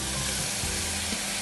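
Onions frying in hot oil in a wok (kuali) for Brunei-style peanut satay sauce, giving a loud, steady, close sizzle that runs continuously with no talking.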